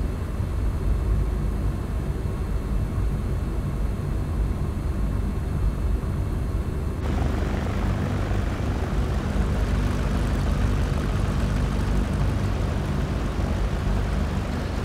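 Steady, loud propeller aircraft engine drone in the X-Plane 11 flight simulator game, holding an even roar throughout with a slight shift in tone midway.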